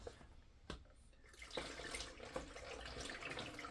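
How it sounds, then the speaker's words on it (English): Homemade pet- and kid-safe fly spray is poured into a spray bottle, a faint trickling splash with a few soft knocks of the containers, quiet and close. "So we'll pour that like that, and be careful not to spill it."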